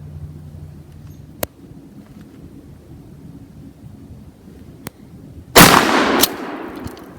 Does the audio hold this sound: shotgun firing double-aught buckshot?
yes